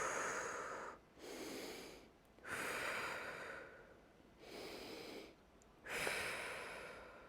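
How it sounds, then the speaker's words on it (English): Slow, deep breaths taken while resting in child's pose during a low-impact strength workout, three long airy inhale-exhale cycles, close and steady with brief pauses between them. "Give me about 3 deep breaths here."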